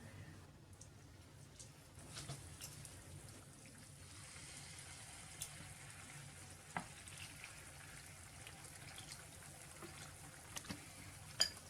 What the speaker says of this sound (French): on va passer à la dernière étape qui est frire nos nuggets